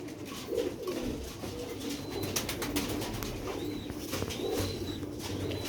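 Sialkoti Ali Wale pigeons coo softly in a sunlit loft, low repeated murmurs over a faint background hiss with a few thin chirps scattered through.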